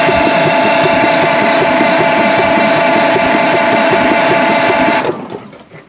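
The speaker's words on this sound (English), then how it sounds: "So I'm gonna go ahead and push down this starter and see if we can get it to show up." A Ford Model A engine cranks on its starter with a loud, even, rapid mechanical churning, steady for about five seconds before cutting off abruptly and fading.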